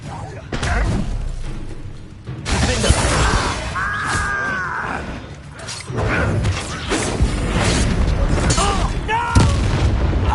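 A Bombarda spell blasting in Hogwarts Legacy, loud booming impacts with crashing, creaking debris amid magical combat effects, voices heard alongside.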